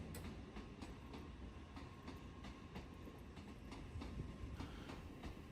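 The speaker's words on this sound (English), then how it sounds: "The train in the background is also headed to Hakata." An empty 16-carriage Nozomi Shinkansen running from the depot toward the station rumbles past steadily in the background, with faint rhythmic wheel clicks over a continuous broadband roar.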